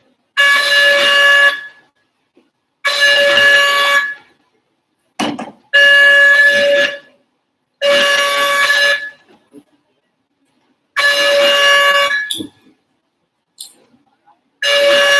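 Electronic quiz buzzers at a school spelling bee sound in turn, six loud, long tonal buzzes of about a second each, separated by short silences, with brief voices between them.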